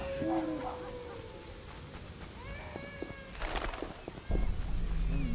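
A cat in The Witcher video game meows several times, a couple of quick cries early and more around the middle, fairly faint over game ambience with a rumble toward the end.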